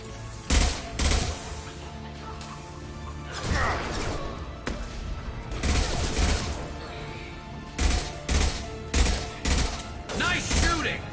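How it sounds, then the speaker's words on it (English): Gunfire in the Mass Effect 2 video game, repeated sharp bursts of shots and impacts spread across the clip, loud and close, with background game sounds. "Nice shooting!"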